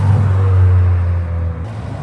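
A loud Fiat Panda at a car meet gives a deep, steady engine rumble up close, fading slightly toward the end.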